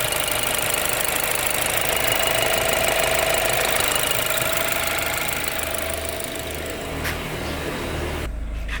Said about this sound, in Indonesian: Kondisi mesin ya teman-teman.